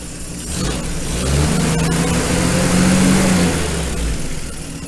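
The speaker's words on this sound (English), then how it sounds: "let's see if we can rev it up a bit" A 1938 GMC truck engine running close by, its low rumble swelling as it is revved up and then easing back down over a few seconds.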